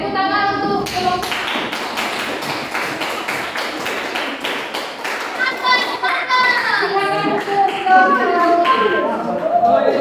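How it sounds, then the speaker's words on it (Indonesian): Classroom applause for a presenting student group, many hands clapping in a dense, sustained burst that fills the room, with children's voices and chatter mixed in throughout. "oke, tepuk tangan untuk kelompok."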